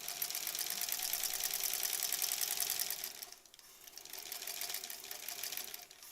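A sewing machine runs at a steady, rapid stitching clip while joining quilt blocks, close and continuous, easing off briefly near the middle before picking up speed again.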